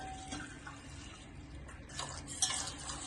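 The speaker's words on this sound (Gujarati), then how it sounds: "અને એને બરાબર હલાવી લેવાનું" A spoon stirs a mixture in a pot as half a litre of milk is worked in, giving soft continuous swishing and faint scraping with a light clink near the end, close by and without talk.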